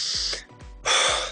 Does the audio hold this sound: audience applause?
no